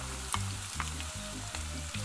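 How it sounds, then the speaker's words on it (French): Finely sliced onion and smoked bacon lardons sizzle in a pan over low heat, a steady close frying hiss broken by a few soft stirring scrapes. "j'ai taillé l'oignon finement avant de le faire revenir dans une poêle à feu doux avec la poitrine fumée taillée en lardons"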